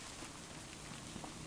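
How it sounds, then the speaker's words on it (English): Steady rain falls on a farm property, a dense, even hiss of drops spread across the whole short stretch with no voices. "I will wait for the rain to stop"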